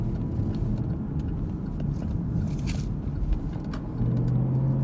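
A car drives along a road in a commercial shopping area in Cleveland, Tennessee. The engine and tyre rumble are heard from inside the car as a steady, fairly loud drone with a low hum rising near the end.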